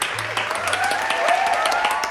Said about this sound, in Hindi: सब तालियां बजाएं